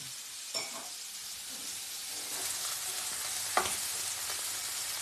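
Pork chops with figs fry in a pan, giving a soft, steady sizzle close by, with a couple of brief scrapes or taps as they are moved.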